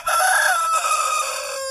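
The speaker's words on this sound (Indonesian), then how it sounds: "ini jago yang hasil dari kandang sana ini sih umurnya masih muda banget" A young rooster, still small-bodied and not yet full grown, gives one short, high crow, close and clear, with no other sounds around it.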